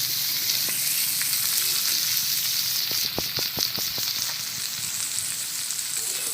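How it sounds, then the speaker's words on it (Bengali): Potatoes and onions frying in a pan, with a continuous close sizzle and a quick series of sharp spatula taps and scrapes in the middle, without speech. "আলু পেঁয়াজটা ভাজা ভাজা হয়ে গেছে"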